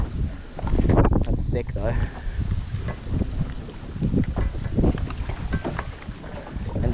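Wind gusting over a Gold Coast canal during a boat fishing trip, a steady rumbling roar buffeting the microphone as people talk over it.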